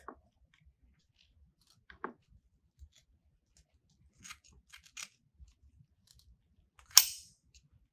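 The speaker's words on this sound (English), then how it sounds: "Let's go ahead and cut this extra mesh off" Scissors snip through excess decorative mesh on a fall DecoMesh wreath, giving a few sparse, close clicks and one sharper crisp cut near the end, with quiet pauses between.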